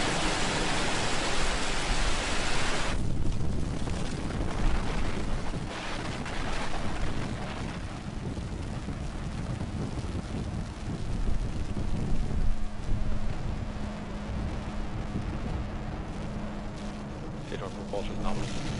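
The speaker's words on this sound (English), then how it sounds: "Liftoff, Falcon 9." A SpaceX Falcon 9 rocket lifts off with a deep, continuous broadband roar that stays loud and steady throughout, carrying a rough, wind-like rumble from start to finish.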